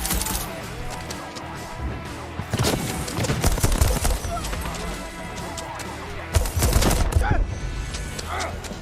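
Gunfire from a gun in the video game Deathloop: sharp, scattered reports with two heavier volleys of shots, over a busy game soundscape with a voice talking at times.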